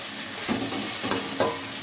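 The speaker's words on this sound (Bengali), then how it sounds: "মশলাটা কিন্তু দেখো নাড়িয়ে চাড়িয়ে খুব ভালো করে আমি কষিয়ে নিচ্ছি" Masala paste for egg curry is stirred and fried in a pan, a soft continuous sizzle broken by a few scraping stirring strokes, fairly quiet and close.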